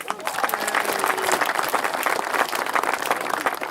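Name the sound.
applause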